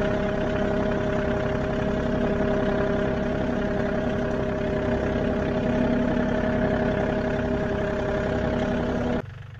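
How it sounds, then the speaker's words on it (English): A farm tractor engine idles steadily and continuously in a backyard, a loud constant drone with an even mechanical hum throughout, cutting off abruptly at the very end. "So excuse the tractor running in the background."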